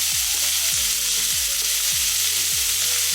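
Chopped onion fries in a pan for lasagna: a loud, steady sizzle with soft, rhythmic thumps of stirring repeating about every half second, close and alone with no voices.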